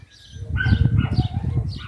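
Birds chirp and twitter close by in a brief lively burst, several calls overlapping with a fluttery, busy texture.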